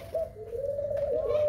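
A ringneck dove in an aviary gives a single sustained, steady coo, close and clear over a low background hum.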